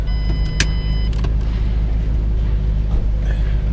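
Someone gets into a car, with a sharp door thunk and clatter of movement in the cabin over a steady low rumble, close and fairly loud.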